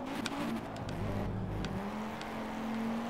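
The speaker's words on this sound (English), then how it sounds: "if I let off the gas and try and shift, so if I let off, see there, so that's letting off and shifting" A race car engine in the Project Cars video game drops in pitch as the throttle lifts and the gear shifts, then climbs again in a steady hum. It plays fairly quietly and alone, with no voices over it.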